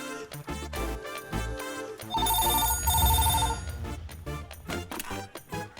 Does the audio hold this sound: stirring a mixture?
no